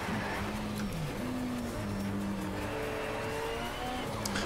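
A Mitsubishi Lancer Evo IX in Need for Speed Shift 2 revs up through its range, a loud continuous engine drone that climbs and shifts pitch, heard alone without talk.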